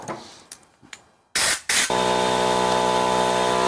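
Generator carburetor parts get short blasts of compressed air to clear debris: a few faint taps and hisses, then two sharp bursts and a loud, sustained hiss right up close.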